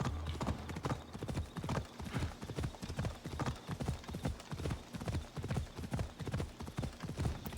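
A horse trots in Assassin's Creed Odyssey, its hooves clip-clopping in a quick, even rhythm of close, crisp strikes that continues without pause.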